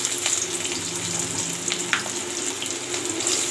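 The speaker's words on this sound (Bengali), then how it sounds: "এবার আমি তেলটা গরম করে পেঁয়াজ দেবো।" Onions fry in hot oil with a constant bright, close sizzle and a few small pops and crackles, and no one speaks.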